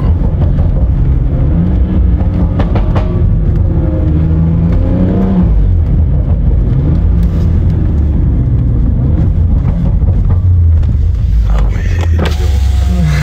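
A BMW M5 tuned to 600 horsepower drifts with its engine held at a loud, continuous roar, revs rising and falling over steady rumbling noise throughout.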